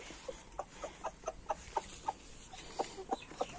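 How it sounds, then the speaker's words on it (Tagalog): A chicken clucks in a steady series of short, soft calls, fairly close, against a quiet outdoor background hiss. "Manok."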